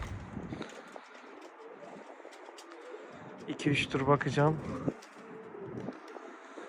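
Pigeons in a coop on a windy morning give a short run of rolling coos, close by, while someone talks over them before and after.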